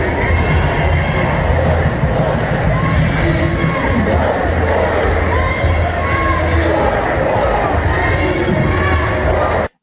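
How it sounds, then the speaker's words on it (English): Protest crowd gathered in the street by a fence, with a rhythmic chant rising from many voices amid loud, continuous crowd noise and shouting, heard up close throughout. "You can kind of hear that overall chant going on in the background."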